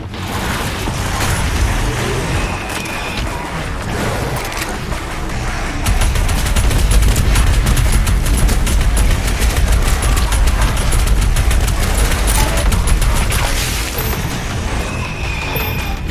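Rapid bursts of gunfire in Doom Eternal crackle continuously with booms and explosions, loud and dense throughout, with no talking.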